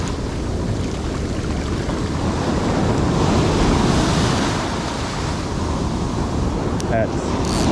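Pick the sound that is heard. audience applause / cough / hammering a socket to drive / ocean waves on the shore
ocean waves on the shore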